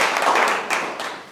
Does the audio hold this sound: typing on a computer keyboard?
no